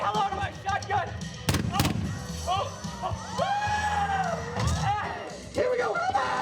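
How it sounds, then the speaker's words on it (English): Shotgun blasts ring out during a staged Western stunt show at Old Tucson movie studio in Arizona, two sharp bangs among whooping crowd noise and a performer's shouting. "Say hello to my shotgun!"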